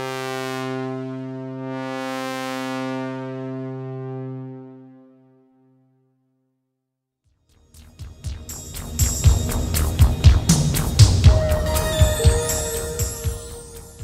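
A synthesizer lead with its mod wheel remapped to CC2, from a theme recreation in Mixcraft: a sustained buzzy tone swelling and fading, then after a pause a dense, shimmering burst of synth texture building up, with no talk.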